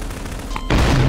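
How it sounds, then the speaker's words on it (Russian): A sudden, heavy bomb blast in Garry's Mod (FNAF 2 co-op mod) bursts in over quiet background noise and keeps roaring loudly to the end. "Я знал, что он меня взорвет."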